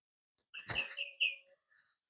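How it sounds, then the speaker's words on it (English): A bird sings at night around one o'clock, a single short burst of bright chirps and whistled notes, faint and somewhat distant against otherwise quiet surroundings. "that bird decides to sing right now"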